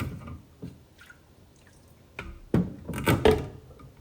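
Intermittent splashes and drips of water, quiet at first then a few louder sloshes, as something is swished and rinsed close by.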